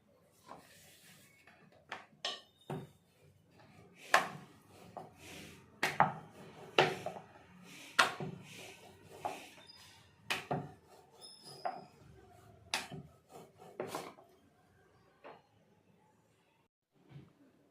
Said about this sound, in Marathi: मी धोंडे बनवण्यासाठी चपाती बघा कसं लाटून घेते